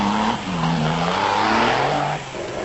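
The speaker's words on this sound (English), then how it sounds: "The Woolridge-Vermaak combination in their time-freight Nissan Sunny was the first production vehicle to start" A Nissan Sunny production car races in a 1996 off-road event in South Africa, its engine note loud and close, rising and falling in pitch as it revs through a short pass, with no voices.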